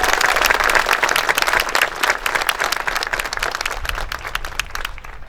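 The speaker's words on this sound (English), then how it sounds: "Let's give them all a round of applause." An audience at a junior school building dedication and ribbon-cutting ceremony applauds teachers, the dense clapping loud at first and then tapering off slightly toward the end.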